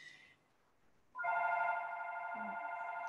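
A telephone rings in a quiet auto shop classroom, a steady electronic ringing tone that starts after a brief lull and holds on continuously, fairly loud and alone without speech.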